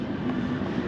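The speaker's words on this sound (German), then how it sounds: "Man hört schon die Achterbahn sich warm fahren nebenan." A wooden roller coaster runs nearby at California's Great America amusement park, a low continuous rumble that stays steady and moderately distant for a brief moment.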